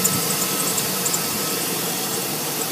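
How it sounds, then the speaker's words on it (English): A 2007 Chevrolet Express motorhome engine runs steadily under the open hood, a continuous broad rumble and hiss heard close up with no speech. "There's your engine."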